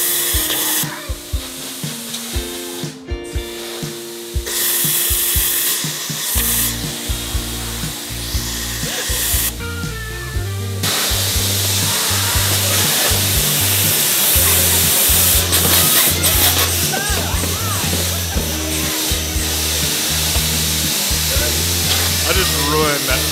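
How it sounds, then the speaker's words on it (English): Crowded indoor ball pit at a children's play zone where people launch balls at each other, a loud constant din of clattering balls, air blasters and shouting voices with nearby talk. "People are just like launching balls at each other. It is so loud in here."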